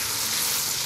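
Cooked pasta stirred with butter in a pot gives a dense, steady sizzling hiss with faint scraping, close and fairly loud throughout.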